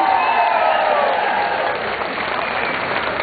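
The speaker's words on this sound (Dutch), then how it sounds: "Dus geef alsjeblieft nog een fantastisch applaus." Sustained audience applause from a large outdoor crowd at a live Keti Koti festival show in Amsterdam's Oosterpark, a steady dense wash of clapping that eases slightly toward the end.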